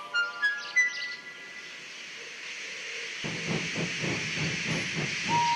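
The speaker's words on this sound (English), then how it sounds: "When Henry had got up steam, he puffed out" A steam locomotive starts puffing after a whistle-like hiss, settling into steady rhythmic chuffs with a continuous hiss of steam.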